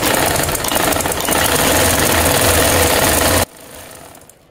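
A sewing machine stitches fabric for trousers, a loud fast steady mechanical whir that runs continuously and then stops abruptly near the end, leaving a quieter hum.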